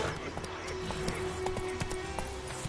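Roach, the horse in The Witcher III, gallops with a steady rhythmic clip-clop of hooves under continuous game ambience, moderately close and even-paced throughout.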